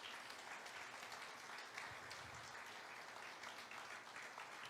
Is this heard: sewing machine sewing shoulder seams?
no